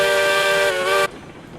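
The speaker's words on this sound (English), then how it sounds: "High-speed train." A high-speed train in the video game RailRoads Online sounds a loud, steady steam whistle with strong harmonic tones for about a second, then cuts off abruptly, leaving a low rumble of the moving train.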